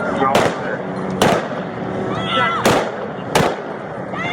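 Four sharp, loud gunshots ring out at uneven intervals during a police officer-involved shooting in Las Vegas, with voices shouting between the cracks.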